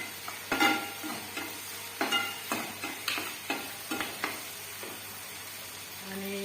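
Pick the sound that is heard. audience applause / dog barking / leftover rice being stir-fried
leftover rice being stir-fried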